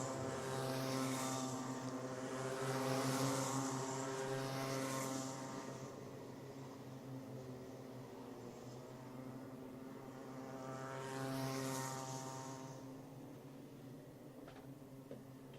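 Rotax Micro Max racing karts on a straightaway, a loud, buzzing engine drone that swells as the karts pass, eases off, then builds again with a second pass, with no voices over it.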